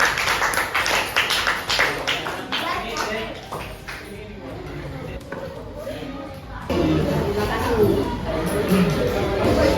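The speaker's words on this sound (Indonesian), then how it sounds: "Tepuk tangan semuanya" Classroom students clap together in a dense, rapid burst for the first few seconds, then the clapping thins out into chatter and a teacher's voice, with renewed noisy activity near the end.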